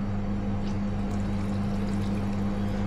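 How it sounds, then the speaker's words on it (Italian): Water pours steadily into a bowl of yeast for a pizza dough preferment, a continuous close rushing splash with a steady low hum underneath. "Andiamo a mettere l'acqua."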